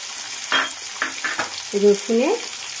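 Prawns fry in a pan with green chillies, a low sizzle running under several short scraping strokes of a spatula, followed by a couple of brief tonal squeaks near the end.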